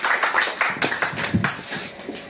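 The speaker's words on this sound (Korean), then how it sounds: "큰 박수 환영해 주시기 바랍니다" Applause from a forum audience welcoming a speaker, a short burst of dense clapping at moderate distance that holds steady and then tapers slightly.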